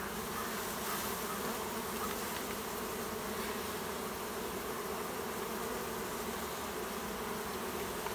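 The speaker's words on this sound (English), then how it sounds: "There's lots of bees on the outside of the hive right now" A dense, steady buzz of many honeybees clustered on the outside of their hive at dusk fills the air, loud and close, continuous with no pauses or talking.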